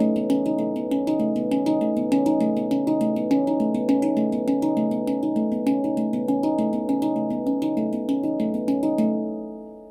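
A steel handpan (RAV) is played in a fast push-pull exercise. Quick, evenly spaced strikes ring with warm, sustained overlapping tones, all at a steady rhythm that fades out at the end.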